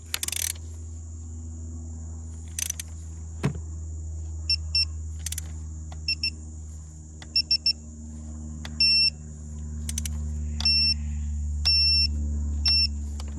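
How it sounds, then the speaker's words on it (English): During an engine repair, a torque wrench set to 13 foot-pounds gives a series of short, thin electronic beeps over a low steady hum, repeating in small clusters. "Listen for the beep."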